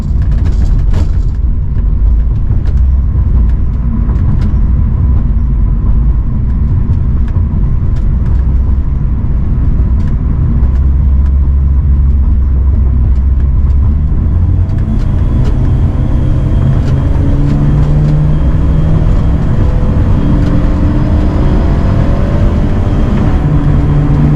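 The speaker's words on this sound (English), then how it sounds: "Obviously the road noise is still pretty hefty." Steady, heavy road rumble from inside a moving BMW E36 touring car build, a continuous low drone with tire noise and engine hum throughout, no talking.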